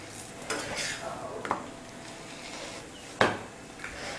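Parotta dough dropped onto a hot oiled dosa griddle gives soft scraping contact and a faint sizzle, with a sharper clatter near the end; close, modest loudness, no talk.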